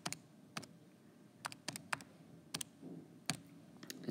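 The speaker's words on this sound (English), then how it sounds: "I'm going to type it all in together on the calculator" Numbers keyed into a calculator: sparse, faint, sharp button clicks at an uneven pace, about eight taps over a quiet background hiss.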